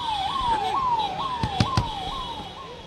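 An ambulance siren wails as the vehicle leaves Cooper Hospital in Mumbai for the Oshiwara crematorium in a funeral procession. The rising-and-falling sweep repeats steadily and loudly, with a few sharp knocks and street noise underneath.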